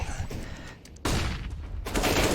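Gunfire in Counter-Strike on the Dust 2 map during a competitive tournament match: dense, loud bursts of rapid shots in two clusters, with a brief lull between them.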